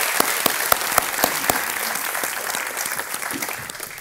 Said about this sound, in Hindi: एक बार तालियां बज जाए योगेश कुमार जी के लिए।